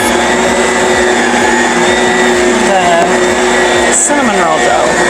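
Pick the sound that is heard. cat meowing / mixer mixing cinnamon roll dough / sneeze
mixer mixing cinnamon roll dough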